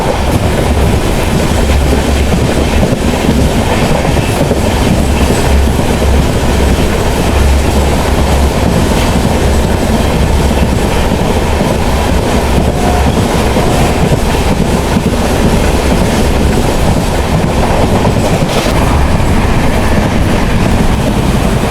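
Pallavan Express passenger train running at high speed between Karaikkudi and Chennai Egmore, a loud, dense roar from inside the coach with constant clickety-clack of wheels on rail joints, continuous and without talk.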